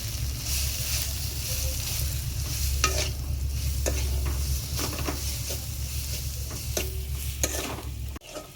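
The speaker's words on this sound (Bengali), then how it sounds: "এখন এটাকে আমি ভালো করে নেড়ে নেব।" Green chillies and spices frying and being stirred in a pan for a chicken and potato kosa curry, with a steady loud sizzle and scraping strokes of the spoon throughout, no talking.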